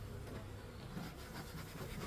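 Honeybees humming in an open hive during a mid-spring inspection, a steady, dense buzz filling the whole stretch at low level with no talk over it.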